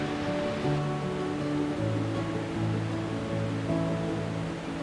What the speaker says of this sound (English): We're pretty close to the waterfall